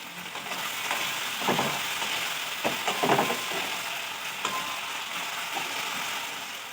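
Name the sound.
potatoes frying in oil in a wok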